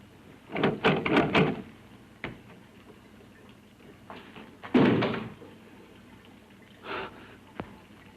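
A door in a horror film creaks and knocks in a few separate bursts, a heavy rattling handling first, then a louder thud, with quieter clicks and ticks between and no talk.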